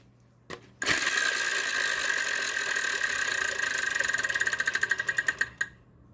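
A Wheel of Fortune game-show wheel spins loudly for several seconds, its dense rapid clicking gradually slowing into distinct ticks before stopping, with no talk over it.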